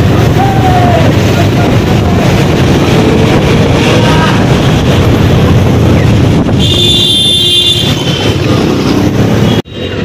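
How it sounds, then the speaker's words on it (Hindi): Heavy wind buffeting the microphone while riding a motorbike out of a petrol pump, a loud continuous roar of rushing air and engine noise throughout, briefly cutting out near the end. "हवा बहुत चल रहा, बाइक बहुत चल रहा है"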